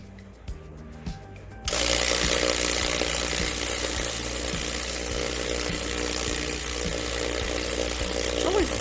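A vibratory rock tumbler loaded with quartz and grit slurry runs with a steady, loud, dense rattling hum that starts abruptly after a few faint taps and continues unbroken.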